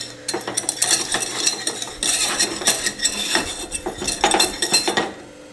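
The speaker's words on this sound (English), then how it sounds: "We're gonna give that a mix" Flour being stirred into sourdough pretzel dough in a bowl, a run of scraping, clinking utensil strokes in quick irregular bursts with brief pauses, close and fairly loud, no voices.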